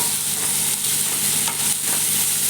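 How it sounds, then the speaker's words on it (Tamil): Ginger garlic paste with curry leaves and onions sautéing in hot oil for an egg gravy, giving a steady, close sizzle with soft stirring scrapes throughout and no talking. "எண்ணெயில் நல்லா வதக்கி விட்டுக்கலாம்."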